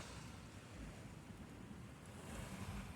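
Ocean waves and wind at a beach, a soft continuous rushing wash with gusty rumble against the microphone, steady and faint, with no talking.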